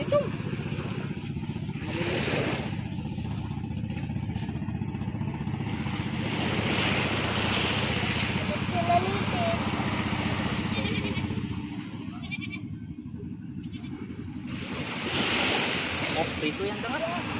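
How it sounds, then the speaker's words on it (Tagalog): Sea waves wash continuously onto a shore, a broad steady rush with swelling surges, heard under people talking nearby. "Dagat pala ito."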